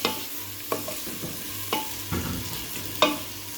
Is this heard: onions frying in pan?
yes